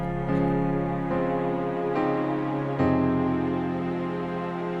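Strings hold one long sustained note while the chords beneath change every second or so, smooth and steady with no voices.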